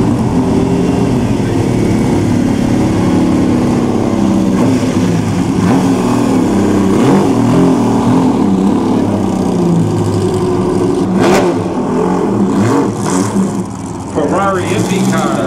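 A 1.5-liter V8 Ferrari Indianapolis open-wheel IndyCar at the Amelia Island Concours, its engine droning steadily and rising in pitch as it passes, with crowd noise and an announcer's voice over it.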